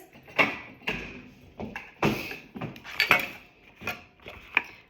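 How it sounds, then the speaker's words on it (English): An orange being cut in a Quick Slice kitchen slicer, a series of about eight sharp, close clacks and slicing thuds in an uneven rhythm, with faint squishy cutting between strikes. "I'm going to use my quick slice so I get even slices"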